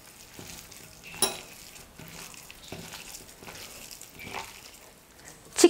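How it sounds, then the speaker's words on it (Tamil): Chicken momo filling ingredients being stirred together in a bowl, soft irregular scraping and squelching strokes close by, with a sharper clack near the end and no talking. "இப்போ இது எல்லாத்தையும் சேர்த்து நல்லா மிக்ஸ் பண்ணிக்கலாம்."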